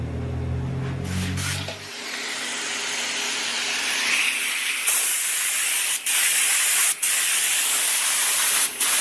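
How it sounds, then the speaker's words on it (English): A small touch-up spray gun hisses steadily after a low mechanical hum cuts out, with brief pauses between bursts of spraying paint on 1967 car windlace parts, loud and close. "Just use a little touch-up gun, and then just spray."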